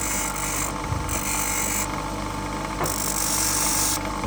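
A tool tip is sharpened against a grinding stone during an iPhone back glass repair, giving a steady, close grinding hiss that swells and eases in several passes across the clip, with no talk.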